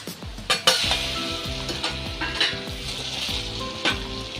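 Red chilli powder, coriander powder, turmeric and salt sizzle steadily in hot oil. The close, continuous frying hiss is broken by a few metallic clinks of a spoon against the pan, with no talking.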